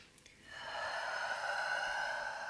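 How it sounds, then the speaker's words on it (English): A single long, deep breath during a yoga and Pilates leg class, held in a wide-legged forward fold. A brief pause comes first, then a steady, airy rush of breath that lasts about two seconds, close to the microphone. "Deep breaths here."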